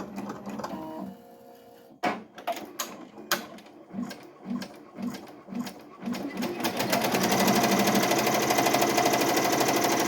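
An embroidery machine runs the placement stitch for an embroidered patch, its needle clattering in quick rhythmic bursts that build into a steady, dense mechanical whir, close and fairly loud with no talk.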